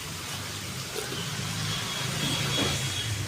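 Steady vehicle traffic on the main road running beside a house in Keraniganj, Arshinagar, a continuous mid-level engine rumble with a car swelling past near the end, no voices.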